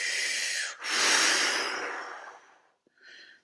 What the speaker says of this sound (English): Exhale everything out of your belly.